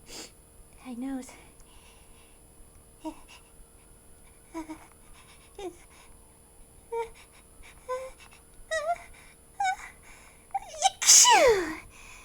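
A woman voicing a cartoon mouse in a comedy sketch makes a string of short whimpering, stuttering vocal sounds that build to one loud, explosive sneeze near the end.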